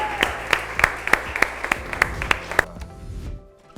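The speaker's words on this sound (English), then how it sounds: "let's give Jacob another rousing round of applause" A small audience at an achievement celebration gives a round of applause: around nine distinct, fairly sharp claps spaced evenly, as though from only a few people, before the sound fades into quiet room tone.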